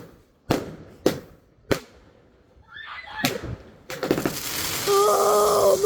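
Bonfire night fireworks bursting nearby: three sharp separate bangs, then a crackling burst and a dense roaring shower of crackles with whistling tones, loud and close.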